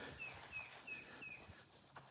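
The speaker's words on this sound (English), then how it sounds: "The birds are singing." Faint spring birdsong outdoors: a small bird repeats a short, high thin note four times in an even rhythm, distant and quiet over soft background hiss.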